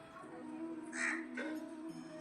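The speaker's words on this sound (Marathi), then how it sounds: "आणि तिकडं असा कावळा बसल्यावरती" A crow caws once or twice, moderately close in a rainy Konkan evening, the harsh calls standing out over a steady low hum and background noise.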